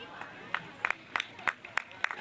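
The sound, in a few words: audience applause for teachers at school sports day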